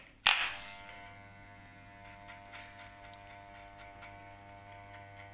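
Electric hair clippers fitted with a 1.5 comb guard cut hair, starting with a sharp click and then running as a steady, close buzzing hum with faint ticking textures throughout.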